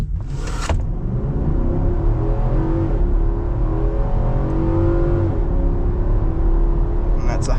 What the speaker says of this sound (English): I won't bother doing the V-Box timing on this one, but I'll just show you the acceleration.